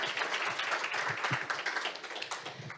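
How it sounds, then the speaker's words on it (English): At a market briefing and reception in Singapore, a crowd gives a dense, steady round of applause for the team, board members and volunteers, and the clapping gradually fades toward the end. "Let's first give a round of applause for our team, our board members, and our volunteers."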